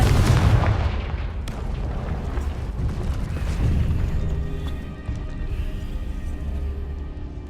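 Confringo blasting spells explode in the Hogwarts Legacy video game, making a loud, continuous booming rumble that builds into a heavy roar and then settles into a sustained, crackling low din.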